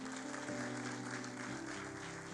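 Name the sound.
congregation applauding and cheering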